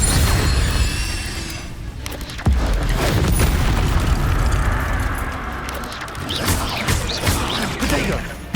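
An Incendio fire spell in Hogwarts Legacy bursts with a loud booming whoosh, followed by roaring crackle and further blasts, dense and close, with a player's shouted voice mixed in.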